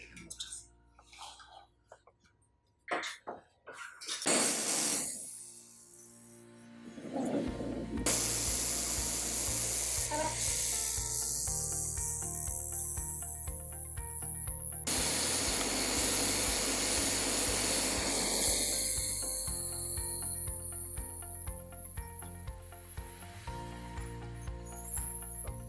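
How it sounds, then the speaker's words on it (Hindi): A Vigor 3-in-1 fiber laser machine welds a 4 mm gap in 1.5 mm sheet, a sustained hissing, buzzing drone with steady tonal hum after clattery handling sounds, while a person talks at times. "हमने जो वेल्ड किया है ये 4 mm गैप फिलिंग किया है"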